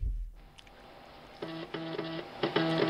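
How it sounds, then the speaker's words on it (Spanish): A quiet 3.5-inch floppy disk drive whirs, then gives short bursts of buzzy stepping and grinding while reading, repeating three or four times close by. "este ruidito era el lector de la disquetera"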